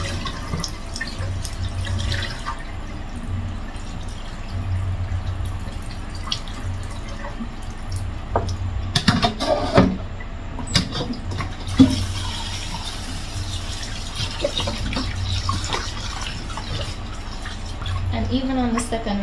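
Raw chicken is rinsed under running tap water, a steady splashing stream with drips, close and continuous, while a person talks over it now and then.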